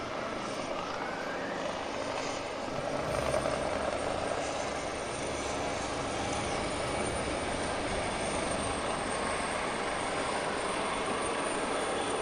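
A military aircraft passes over an Independence Day parade with a loud, continuous engine roar that holds steady from start to finish, broad and rumbling, with no voices heard.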